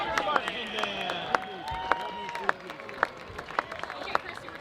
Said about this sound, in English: How about another round of applause for the Norwalk Warrior Marching Band?